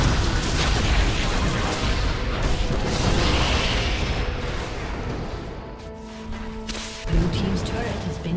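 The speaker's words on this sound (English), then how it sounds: "Blue team's turret has been destroyed." A turret being destroyed in League of Legends, heard as a rumbling crash and booming collapse amid game effects, followed by chimes and an announcer-style voice while a commentator talks over it.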